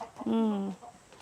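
A single loud, drawn-out hen cluck or squawk, close up, followed by quieter ambient noise.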